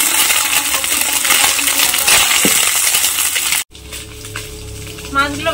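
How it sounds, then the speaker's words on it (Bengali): Small mourola river fish fry in hot oil with a loud, dense crackling sizzle for about three and a half seconds. The sound then cuts abruptly to quieter background sound. "মাছগুলো ভাজা হয়ে গেছে"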